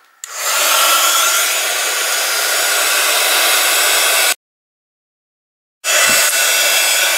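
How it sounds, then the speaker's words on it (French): A heat gun preheats for heat embossing with a loud, steady blowing roar that runs for about four seconds, cuts off for over a second, then starts up again just as loud. "c'est parti pour faire préchauffer mon pistolet"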